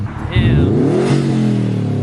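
A Subaru WRX STI with a loud CARB-legal intake and turbo revs up in one short, close, rising engine pull, with a voice talking over it.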